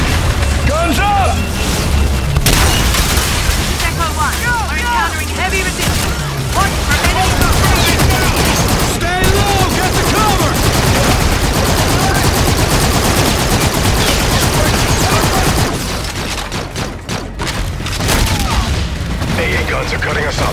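Dense, relentless automatic gunfire and booming explosions from a Call of Duty: Infinite Warfare battle, loud and continuous throughout, with radio-style voices shouting over the din.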